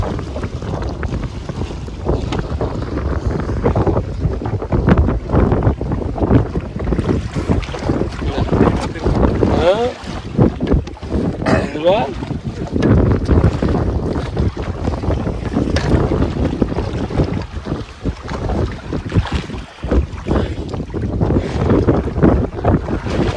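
Small fishing boat out at sea, with steady rushing water and strong wind buffeting the microphone throughout, a constant loud roar with occasional thumps and no clear speech.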